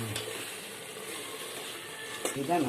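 Tomatoes and spices frying in oil in a pan for biryani, a steady close sizzle with faint stirring and a brief utensil clatter near the end.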